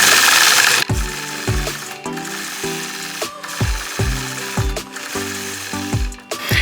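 A sewing machine stitches free-motion quilted curves in loud, close bursts of rapid needle chatter, starting and stopping several times with brief pauses between runs.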